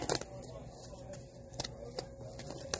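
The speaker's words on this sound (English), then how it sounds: "I'm just shuffling the cards." Soft riffling and repeated flicks of tarot cards being shuffled by hand, close up, with a few sharper snaps along the way.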